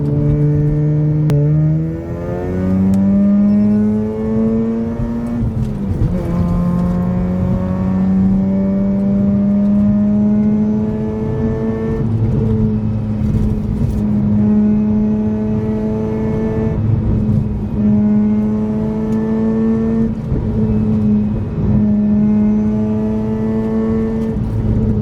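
A Mazda RX-8 driven on a road at night, its engine droning loudly and steadily with rising and falling pitch through the gears, heard from inside the car with no talk.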